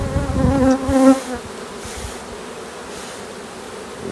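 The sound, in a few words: honeybees buzzing from an opened hive colony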